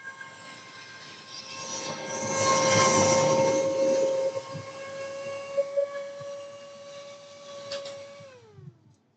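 A laptop cooler's steady whirring fan hum with a constant tonal whine swells louder for a few seconds, then the pitch drops away as it spins down.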